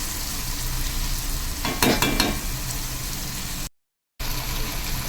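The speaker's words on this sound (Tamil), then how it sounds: "தக்காளியும் நல்லா வதங்கட்டும்." Onions and tomatoes sauté in hot oil in a pan while an egg curry is prepared, giving a steady, close sizzle with a short burst of stirring clatter partway through and a brief dropout near the end.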